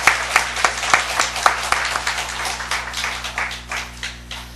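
A church congregation applauds its teachers in a long burst of clapping, with individual claps audible and fading somewhat toward the end, over a faint steady room hum.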